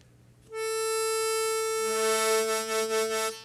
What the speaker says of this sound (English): So if your mouth is over 4 holes and you center your tongue and pull back ever so slightly, the octave will sound.